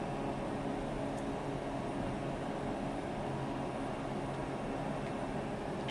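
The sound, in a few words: aircraft engine at full throttle in a video game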